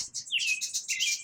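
House wren in dense woods and overgrown grass giving clear, high chirping song phrases, two bright trilled bursts close by with no other sounds.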